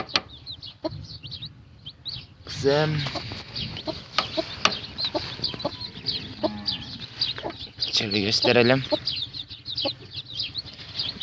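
A hen clucks softly in a coop while small newly hatched chicks peep in high bursts nearby; a person speaks a few words in between.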